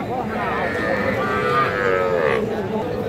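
Cattle low in a long, sustained moo at a livestock market where a bull calf is for sale, with crowd murmur and chatter underneath.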